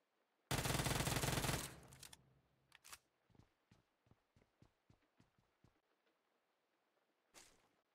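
An Uzi submachine gun in PUBG Mobile fires one loud, rapid burst lasting about a second. Scattered sharp clicks and quieter single cracks follow, then one more short blast near the end.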